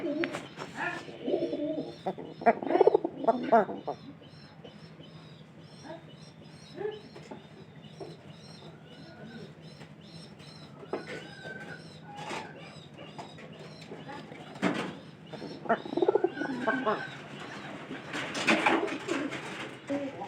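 A pigeon pair kept together in one coop coos close by in repeated soft, throaty phrases, with louder bursts of cooing and rustling toward the start and end and faint chirps scattered between.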